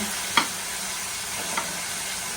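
Tomato wedges hit a hot frying pan, setting off a steady sizzle with two short sharp spits standing out from the continuous frying hiss.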